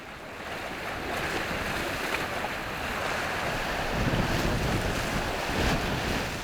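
Rough sea surf crashing steadily on the rocky shore of a remote island, with strong wind buffeting the microphone in a dense, unbroken roar that swells louder midway.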